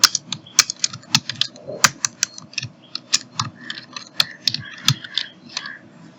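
Rapid typing on a computer keyboard while laying out a Tamil political poster, a steady run of crisp close key clicks with uneven rhythm and occasional heavier keystrokes, with no voice over it.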